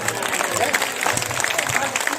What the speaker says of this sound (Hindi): सारा सदन खड़ा होकर ताली बजाए